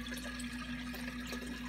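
Water poured into a jar of sprouting seeds for soaking, a steady trickling, bubbling fill with a constant hum behind it, short and continuous, with no talk.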